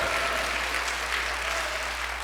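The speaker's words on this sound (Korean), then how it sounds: "일단 박수." An audience claps steadily throughout, a dense, even wash of applause from many hands.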